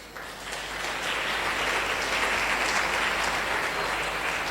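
An audience at an achievers training event bursts into applause that swells quickly and stays loud and even, dense clapping from a large crowd filling the hall.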